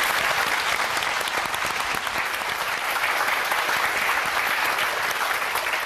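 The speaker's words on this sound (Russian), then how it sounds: "Спасибо за аплодисменты" A television studio audience at a matchmaking show claps loudly and steadily, a dense, continuous wash of applause close to the microphone with no breaks.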